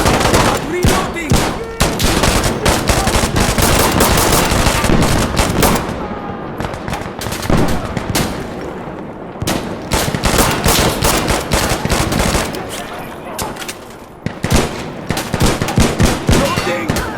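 Dense automatic and burst gunfire from the video game Insurgency Sandstorm, loud and near, with rapid overlapping shots and cracks filling the whole stretch almost without pause.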